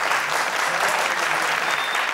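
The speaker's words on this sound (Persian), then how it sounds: "دوستا تشویقش کنید خانم خاطره" Sustained, loud clapping from a studio audience during a televised family quiz show, an even rolling wash of hands with no voices over it.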